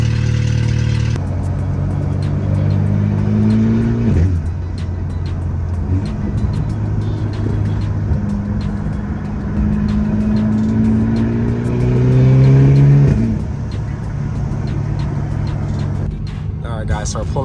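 BMW F30 320i with the N20 engine and a 3-inch straight pipe exhaust revs loudly nearby, the engine note rising and falling through several rev sweeps over a deep droning idle, with people talking briefly.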